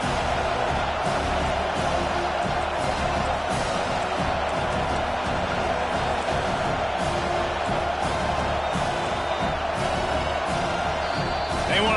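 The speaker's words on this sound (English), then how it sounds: "Decibels rising as the crowd gets behind this defense on third down." A packed football stadium crowd roars steadily behind the defense on a third down, a dense, loud, continuous wall of cheering.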